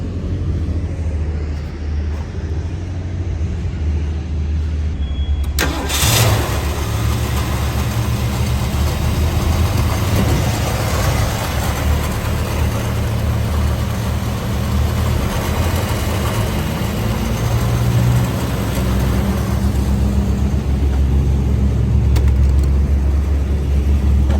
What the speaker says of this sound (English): we are getting to that point of the video where we're going to fire it up and then drive it